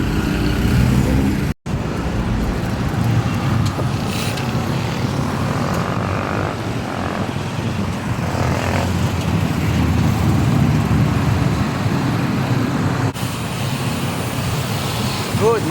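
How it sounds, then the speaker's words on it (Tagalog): Steady, dense road noise from many vehicles in heavy traffic along a street in the Philippines, heard from a bicycle, with engines droning continuously and fairly close throughout. "Medyo traffic dito ba sa part na to, medyo marami sasakyan."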